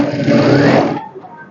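Sewing machine stitching a denim jean skirt with navy blue thread, a steady fast motor whir running loud and close for about a second before cutting off into quiet room tone.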